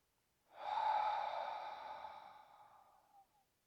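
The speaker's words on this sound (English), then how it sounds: "Now taking a deep breath in through the nose" A single long, deep inhalation drawn in through the nose, starting abruptly and then slowly tapering off over about three seconds, close and breathy with no talking.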